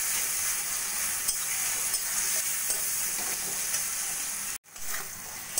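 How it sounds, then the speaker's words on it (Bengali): Capsicum, green chilli, tomato, salt, turmeric and cumin powder sizzle steadily in a pan, a continuous loud hiss with occasional stirring scrapes and a brief dropout near the end; no talking. "সব কিছু একটু ভাজা ভাজা করে নেব।"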